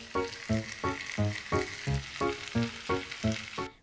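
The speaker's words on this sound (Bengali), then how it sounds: "এবারে ডালটা সবজির মধ্যে ঢেলে নেব।" Moong dal poured into vegetables frying in a pan gives a steady sizzle, with rhythmic swells and scrapes as the mix is stirred, close and fairly loud with no talk.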